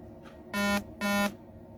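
A notification sounds two loud, buzzy electronic beeps of about a quarter second each in quick succession, close and clear over quiet room tone.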